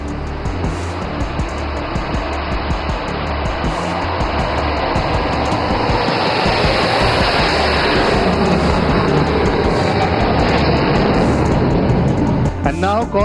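Sukhoi Su-30 MKI fighter jets fly past in formation over the Moran emergency landing facility on a highway, a loud broadband roar that builds and stays strong, with voices over it.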